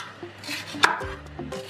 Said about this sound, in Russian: Подготавливаю болгарский перец, очищаю его от семян и перегородок. И режу его вот такими треугольными кусочками